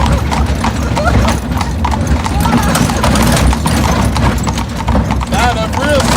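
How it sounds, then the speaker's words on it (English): Carriage horses in Williamsburg setting off at a walk, their hooves clip-clopping in a steady, loud, close rhythm on the road, with occasional whinnies and someone talking over the hoofbeats. "So if we were to take these horses, I let them have their head, we'll move out."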